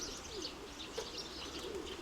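Soft, low pigeon cooing repeated a few times over a faint background hiss, with light chirps mixed in.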